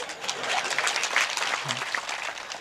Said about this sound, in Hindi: यह ताली आती थी सब जगह बेटा